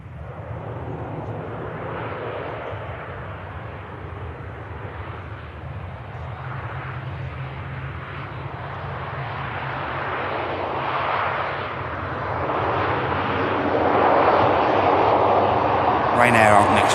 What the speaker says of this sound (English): There's an aircraft on the approach.